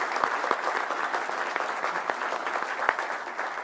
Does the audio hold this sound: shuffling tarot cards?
no